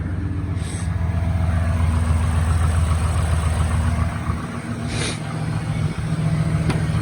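A 2013 Chevy Silverado 1500 engine idles steadily on fresh spark plugs, a close, even low hum with a faint tick or two riding over it.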